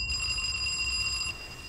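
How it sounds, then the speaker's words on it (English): A bell rings indoors in a TV drama scene, a steady bright metallic ringing that carries on for over a second before cutting off, with no talk over it. "Is that a bell I can hear?"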